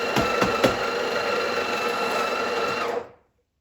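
Built-in grinder of a Breville Barista Pro espresso machine grinding coffee beans at a fine setting, a steady loud whirring buzz lasting about three seconds before cutting off abruptly.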